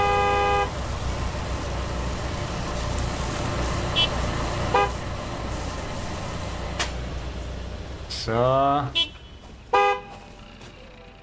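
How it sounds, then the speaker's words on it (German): Car horn honking in the video game Gas Station Simulator, several short toots near the end over a steady hum of game ambience, with a brief spoken word early on. "Hier wird nicht gehupt."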